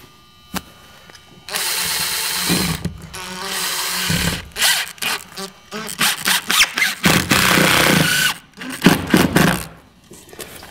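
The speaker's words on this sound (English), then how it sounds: "I'm just gonna screw it into place." A power drill drives trim screws into fiber cement siding flashing, whirring in several bursts of a few seconds each, close and loud, separated by short quiet gaps.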